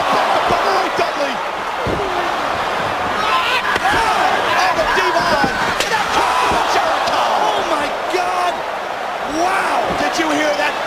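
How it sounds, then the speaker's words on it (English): A steel chair strikes a wrestler's back during a TLC tag team match at the Arrowhead Pond arena. A few sharp, hollow impacts land amid a roaring crowd, with commentators talking throughout. "Did you hear that thud echo through the Arrowhead Pond?"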